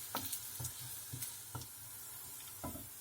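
Garlic sizzles gently in a pan before onions and wood blewit mushrooms go in: a soft, quiet frying hiss broken by a few light utensil taps and stirs, close but low in level.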